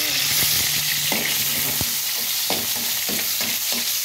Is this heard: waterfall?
no